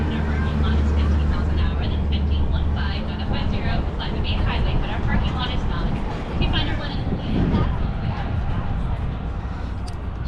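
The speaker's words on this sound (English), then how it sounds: "There goes the tram." A tram passing at Disney's Hollywood Studios in Orlando, a steady rumbling engine and rolling drone that fills the background, with a person talking over it.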